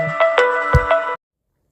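A short electronic phone ringtone plays a quick melodic pattern of chiming notes, loud and close, then cuts off abruptly.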